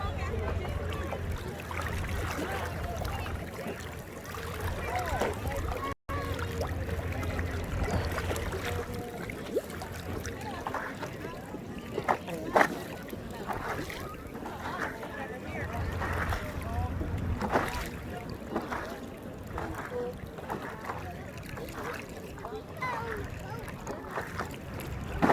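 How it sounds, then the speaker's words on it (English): A tiny battery-powered trolling motor drives a paddleboard across open water, giving a steady low drone under continuous wind buffeting and water wash for the whole stretch. "what I have set up is a battery and a itty bitty trolling motor, and it works like a champ"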